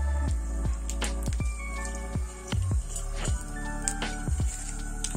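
Mustard seeds crackle and pop in hot oil in a pan while an onion-tomato chutney is being prepared. Sharp, irregular snaps burst repeatedly over a steady sizzle, close by, with no talking.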